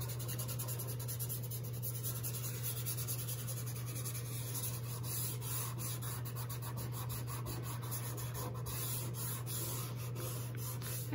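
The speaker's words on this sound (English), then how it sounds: "the more you rub, the more blended, softer it's going to look." Steady, soft rubbing of pastel on paper as a landscape drawing is blended, a continuous even scrubbing texture with a constant low hum underneath and no talking.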